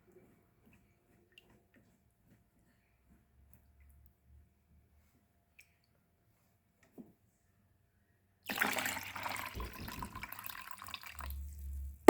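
Water sloshing and running as quinoa grains are rinsed and washed in a bowl, a loud burst of splashing and draining that starts abruptly after long near-silence and continues to the end.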